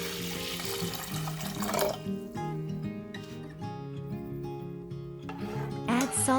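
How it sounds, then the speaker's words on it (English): Water splashes and runs into a pot of bulgur nearby, a continuous gurgling pour with some clinking and shifting tone as it fills. "Fill with water."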